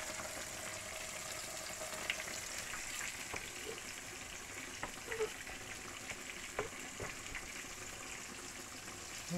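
Meatballs frying in a pan with sauce, a steady soft sizzle with faint scattered pops and stirring clicks, close by and fairly quiet, with no talk.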